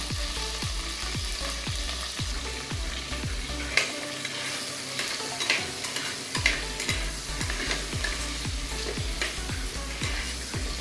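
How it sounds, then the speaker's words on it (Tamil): Eggplant sautéing in oil in a pan, a steady sizzle under repeated rhythmic scraping and stirring strokes of a spatula, close and moderately loud with no voices. "நல்லா இந்த எண்ணெயிலே இந்த கத்திரிக்காய் நல்லா வதங்கிடணும்."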